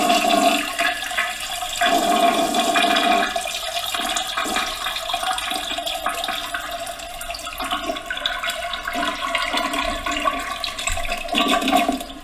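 A toilet flush plays as a custom trading-platform alarm, a continuous rush of water swirling and draining for the whole stretch at moderate level, with no talking.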